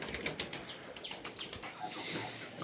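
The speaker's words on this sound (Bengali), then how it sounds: "তিনটা ঘুঘু আছে ঘুঘুকে ধান দেওয়া হয়েছে" Doves fed with paddy rice on a village farm rustle and flap their wings in quick soft bursts, close by, with a faint coo or chirp now and then.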